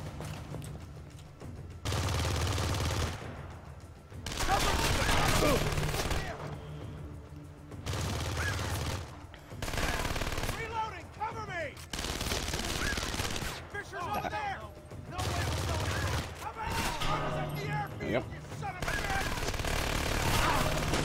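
Repeated bursts of game gunfire in Splinter Cell: Conviction, loud volleys broken by short quieter gaps, with mechanical clatter mixed in across the stretch.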